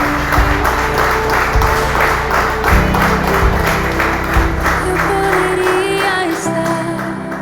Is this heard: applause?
yes